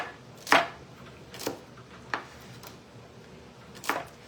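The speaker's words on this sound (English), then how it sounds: "We're just getting some celery chopped." Celery being chopped with a knife on a cutting board in a home kitchen: four separate sharp chops spaced about a second apart, close and fairly quiet, with no talking.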